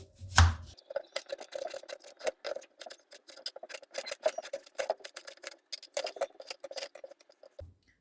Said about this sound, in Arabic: اول حاجه هعملها هسمي الله كده وهقطع الخضار